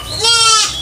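A goat lets out a single short, loud bleat close by, a wavering cry of under a second.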